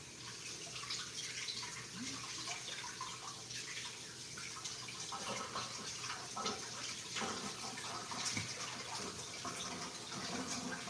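Tap water runs steadily into a kitchen sink while spinach is rinsed, a constant close splashing hiss with small splatters and shifts as the leaves are moved under the stream.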